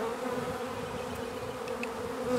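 Honey bees buzz in a dense, continuous drone during a hive inspection in a backyard apiary, close and steady throughout with no talking.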